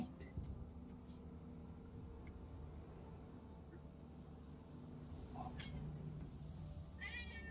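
A cat meows a few times, faint and somewhat distant, over a steady low engine-like rumble with a person talking.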